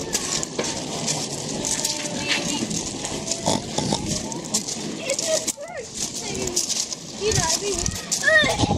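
Pigs grunt and oink nearby amid busy farmyard noise, while people chat over them throughout.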